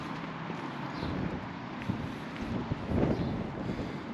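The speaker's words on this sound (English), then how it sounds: "And as you can probably hear, it's pretty darn windy." Faint gusty wind buffets and rumbles across the microphone on a walk in Blackpool, steady with a few stronger bursts, no voices.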